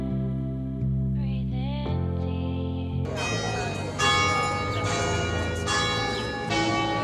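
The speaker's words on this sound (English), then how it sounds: "It's 7 o'clock, the bell is ringing." A church bell rings out at seven o'clock in a town on Lake Como, starting with a low sustained hum and then breaking into loud, overlapping peals that carry through the rest of the clip. Nobody speaks.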